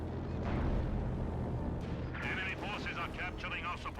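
Katyusha rocket artillery barrage in Company of Heroes 2, a dense rumbling roar of launches and impacts followed by a shrill, whistling salvo of rockets, heard under a commentator's voice.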